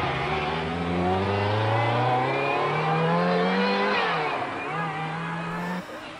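A 1984 Lancia Delta S4 prototype rally car roars past on test, its engine revving loudly through rising and falling gear pulls, near and dominant with no voices.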